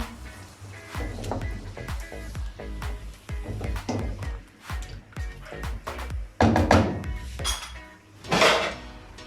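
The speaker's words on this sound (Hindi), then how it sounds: "अब इसमें दही डाल देंगे, अच्छे तरीके से मिक्स कर लेंगे।" Yogurt is stirred into chicken karahi in a metal pan, producing repeated scraping and clinking of a utensil against the pan in an irregular rhythm, close and fairly loud.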